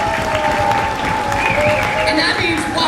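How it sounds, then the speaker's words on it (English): Audience applause for poets at a poetry slam final during a writers festival, steady dense clapping from a crowd that carries through the whole stretch, with a voice and some tonal sound faintly beneath. "Applaud those poets!"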